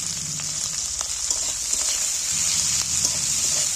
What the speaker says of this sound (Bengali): এবার পেঁয়াজগুলো তুলে দিচ্ছি।